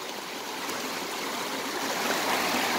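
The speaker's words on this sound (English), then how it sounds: "I won't be able to get to the other side because it's too much water." Floodwater left by heavy downpours rushes steadily across a road, a loud continuous broadband roar like a stream that swells slightly toward the end, with no talking.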